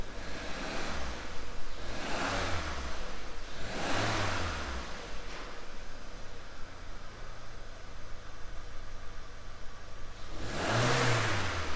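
A misfiring 1.4 TFSI car engine revs up and down in several sweeping bursts in a workshop, settling to a steady drone in between before one last sharp rev near the end.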